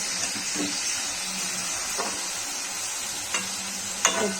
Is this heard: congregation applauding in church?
no